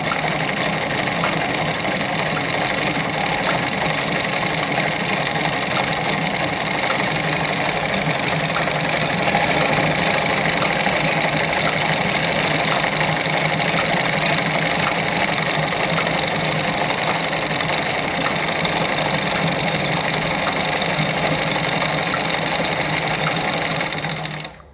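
A Singer 306K sewing machine stitches a zigzag in one steady, continuous mechanical whir with a fast, even rhythmic clatter, loud and close, running without a break for the whole stretch.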